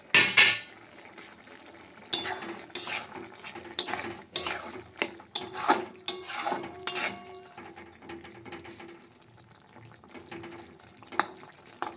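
A spoon stirs watermelon rind curry in a pan, giving bursts of sharp scraping and clattering metal strokes between quieter moments, with a final knock near the end.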